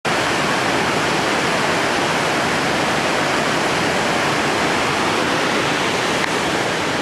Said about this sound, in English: there's the other waterfall I was talking about